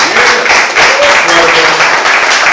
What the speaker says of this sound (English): Let's give it up for Lisa Nicole Cloud for a round of applause.